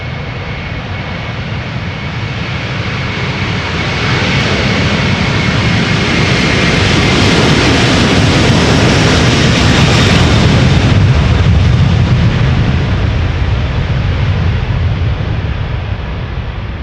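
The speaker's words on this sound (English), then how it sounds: "This is Delta Airlines Flight 137, A330-300, going to Detroit." Delta Airlines Airbus A330-300 bound for Detroit taking off from Schiphol's Polderbaan, a loud, broad jet engine roar that builds around four seconds in and holds steady and close for the rest, with no voices.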